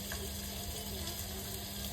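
Chicken feet for adobo sauté in a hot pan, a dense continuous sizzle that stays even and close throughout, with a faint steady hum underneath.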